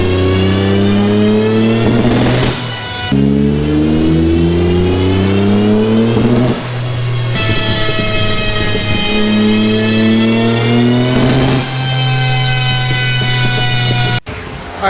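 A Nissan 300ZX making over 900 wheel horsepower revs hard on a dyno during a test pull, its engine note climbing steadily in long sweeps with brief dips, loud and sustained with no talk.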